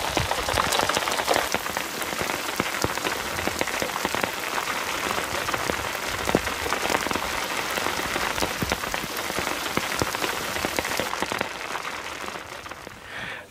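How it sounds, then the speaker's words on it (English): Rain squall pattering hard on a dinghy at anchor on a lake, a dense steady hiss of drops with sharper close impacts throughout, easing slightly near the end, no voices. "That rain squall passed."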